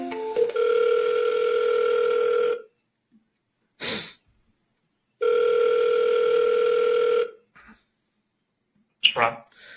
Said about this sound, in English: I guess we'll make one more phone call here.